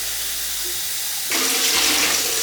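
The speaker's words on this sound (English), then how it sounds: "I have my big pot filled this I reckon halfway with hot water" A big cooking pot fills with hot water from a kitchen tap, a steady broadband rush that starts after a quieter moment and pours on loudly and close for the rest of the moment.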